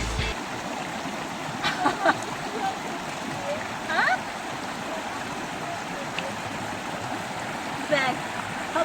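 A stream rushes steadily close by, a constant watery wash with occasional small splashes on top.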